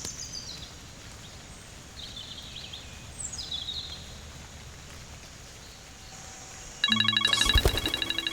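An outgoing telephone call rings through near the end, a loud pulsing ring that follows several seconds of faint, quiet room ambience.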